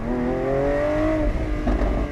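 A Lamborghini Aventador SVJ Roadster's naturally aspirated V12 revs hard, a loud close tone climbing steadily in pitch before dropping sharply at an apparent gear change.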